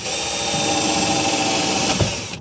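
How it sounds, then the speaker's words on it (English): A power drill drives a screw into a wall, whirring steadily and close for about two seconds, then winds down with a brief jolt near the end as it stops. "So just put your force forward straight on that drill."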